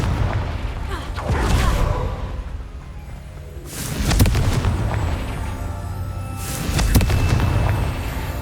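Confringo blasting spell explosions go off in Hogwarts Legacy, two or three deep, booming bursts a few seconds apart, each swelling loudly over a continuous rumbling background.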